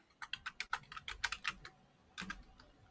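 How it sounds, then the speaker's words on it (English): Quick irregular clacking of keys on a computer keyboard while code is typed, a burst of close keystrokes followed by a pause and a short final flurry, with no voices. "So we're going to type in"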